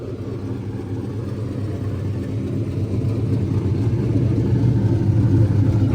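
A Foxbody Mustang with a welded differential driving along, its engine giving a steady, loud, rising rumble and road noise heard from inside the car, with no talking.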